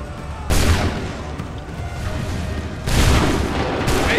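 Musket volleys crack out in an Assassin's Creed 3 battle, two loud broadband blasts about two and a half seconds apart, each followed by a rumbling tail over a dense battlefield din.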